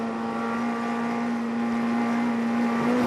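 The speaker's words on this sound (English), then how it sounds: "Listen to the engine." A BTCC touring car engine at full throttle during a race at Thruxton, a loud steady high-pitched drone held at constant pitch for about three seconds, with no voices over it.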